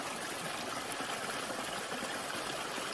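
Waterfall water flowing steadily at a campsite in the rain, a continuous broadband rushing wash with no talk.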